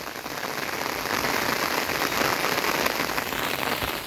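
Rain falls steadily outdoors in a rural pasture where cattle graze, a dense even hiss of drops lasting throughout with no voices.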